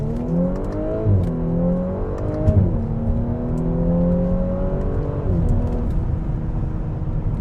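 An Audi S5's engine revs up and accelerates through several gear changes, pitch climbing and dropping repeatedly in a loud, close drone.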